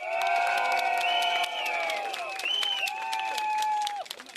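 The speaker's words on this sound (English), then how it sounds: "Please give yourself a round of applause" A rally crowd at Woodlands Stadium cheers and claps from a distance, while sustained, wavering horn-like tones ride over the crowd noise before it breaks up at the end.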